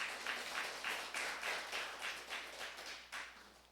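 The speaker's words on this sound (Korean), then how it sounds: "박수로 환영하겠습니다." Church congregation clapping in steady unison to welcome first-year youth group members at a Sunday worship service, a rhythmic run of evenly spaced claps, faint and roomy, with no talk over it.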